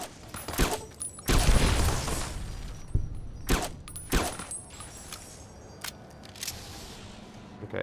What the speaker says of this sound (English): Here, have an incendiary grenade.